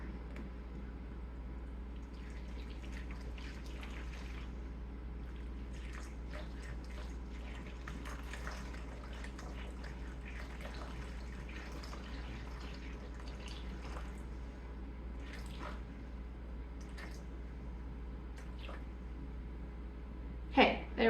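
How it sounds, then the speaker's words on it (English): Water is poured into a lidded bowl of sourdough starter for protein bread, a faint trickling stream over a steady low hum that continues almost throughout and ends with a soft knock. "And I am going to add 350 grams of water."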